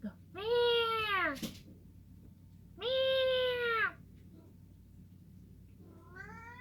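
A house cat meows up close, giving two long drawn-out meows with a pause between them, then starting a third, in a quiet room.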